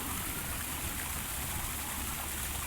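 Water in a newly installed koi pond flows and trickles in a steady, close, continuous rush with no voices.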